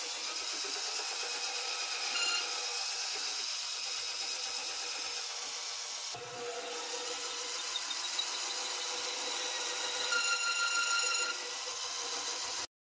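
Sandpaper honing the bore of a Mannlicher 1888/90 rifle, a steady close rasping scrape running continuously with a brief shift partway through.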